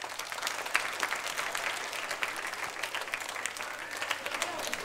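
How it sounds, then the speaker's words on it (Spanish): Audience applause greeting a presenter at a children's science outreach event, a steady, dense wash of many hands clapping in an indoor space, sustained evenly from start to finish with no voices over it. "I sense més, un fort aplaudiment per a Vicent."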